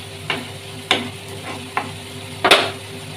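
Mutton keema with green peas and coriander fries in oil as a spoon stirs and scrapes the pan four times, each stroke a sharp rasp over a low, steady sizzle.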